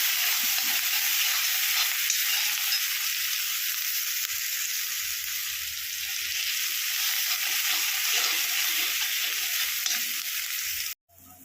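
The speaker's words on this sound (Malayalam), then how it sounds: "ചതച്ചത് ഇഞ്ചി വെളുത്തുള്ളി ചതച്ചത് ഒന്ന് വഴച്ചെടുക്കാം" Crushed ginger and garlic sizzle steadily in a hot pan, a loud continuous frying hiss with occasional stirring, cutting off abruptly near the end.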